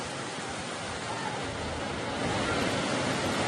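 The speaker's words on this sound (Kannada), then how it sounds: "ಊರಿನಲ್ಲಿ ರಸ್ತೆ ಒಳಗಡೆ ಈ ಮಟ್ಟಿಗೆ ನೀರು ತುಂಬಿ ಹರಿತಾ ಇದೆ" Floodwater rushes in a fast, heavy current along a flooded village road near Yellamma hill in Belgaum district, a dense, unbroken roar that swells slightly toward the end, with no voices.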